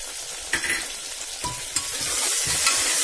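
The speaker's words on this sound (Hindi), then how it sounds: "एक मिनट तक हमें भूनना है अदरक लहसुन का पेस्ट और टमाटर डालने के बाद।" Onion, tomato and ginger-garlic paste fry in a pan for a mixed sprouts pulao, a loud sizzle broken by a few spoon scrapes and knocks, with the hiss swelling toward the end.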